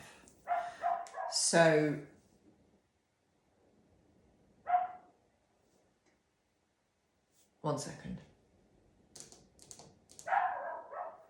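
A neighbour's dog barks at a gate in several sharp bursts, spaced apart and somewhat distant, with a person speaking briefly between them.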